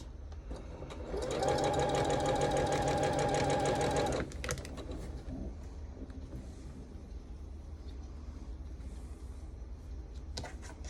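A sewing machine stitching pieces of an Irish chain quilt, a loud rapid mechanical whirr lasting about three seconds before stopping, followed by quieter handling sounds.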